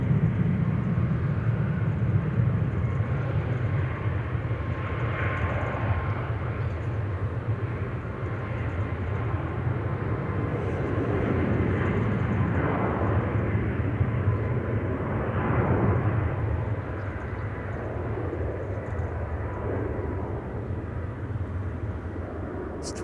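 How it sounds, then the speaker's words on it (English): A TUI Boeing 737 Max 8 takes off at Amsterdam Schiphol, its engines producing a broad, continuous roar that swells and shifts over about twenty seconds at moderate distance. "Time for the Max 8 737 from TUI to be taking off."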